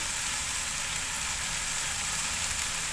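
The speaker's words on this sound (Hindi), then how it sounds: "और राइस को मैंने बॉईल करी हूँ, डाल देंगे हम हमारे राइस।" Boiled rice hitting a hot pan for street-style chicken triple fried rice, giving a steady, even sizzle that hisses on without pause or talk.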